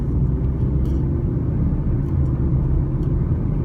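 A 2020 Honda Civic LX sedan accelerates uphill at about half throttle, heard from the cabin as a steady, dense low engine and road rumble with no break.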